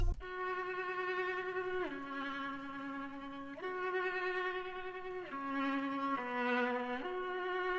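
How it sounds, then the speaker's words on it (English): A violin sample plays a sustained melodic line alone, long bowed notes shifting pitch every couple of seconds, rich and steady at a moderate level. "I just found this violin sample and it sounds like this"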